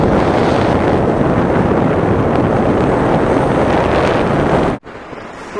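Strong wind buffets a paraglider in flight high above a mountain pass in the Canadian Rockies, a loud, steady roar of rushing air that cuts off abruptly near the end into a much quieter hiss.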